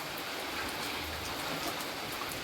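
Rain falls in a steady, even hiss that holds at the same level throughout, with no voices.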